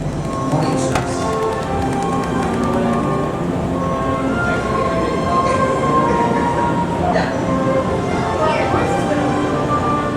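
A Universal Studios Hollywood backlot tour tram rolls along with a constant rumble and clatter, distant voices and faint announcements mixed into the steady ride noise.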